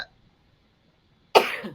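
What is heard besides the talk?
a sneeze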